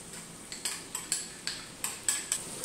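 A spoon stirs cilantro-garlic paste with shrimp juice in a pan, giving a steady series of about eight sharp scraping clinks at a quick, even rhythm, close and distinct with no talk.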